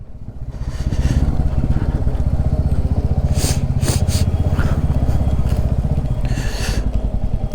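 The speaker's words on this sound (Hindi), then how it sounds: "इसको बोले इंजन ब्रेकिंग करे।" Hero Xtreme 125R motorcycle engine braking on a rough mountain road near Manikaran, a steady close rumbling engine note with rapid firing pulses, joined by a few bursts of scraping or hissing.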